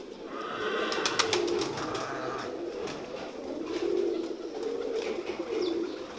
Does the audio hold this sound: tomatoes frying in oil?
no